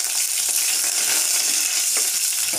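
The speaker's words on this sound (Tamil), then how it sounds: "இப்போ காஞ்ச மிளகாய், கருவேப்பிலை போடணும்." Dried red chillies and curry leaves dropped into hot oil sizzle and crackle loudly and steadily, close up, for mango thokku being cooked, with no talk over it.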